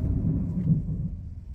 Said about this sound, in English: It's just so much thundering and lightning, and Jada is scared.